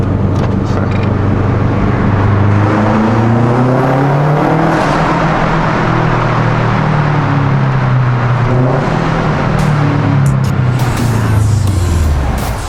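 A tuned Oldsmobile Aurora roars loudly through a tunnel, its engine note rising and falling through several gear changes with echoing resonance, no speech.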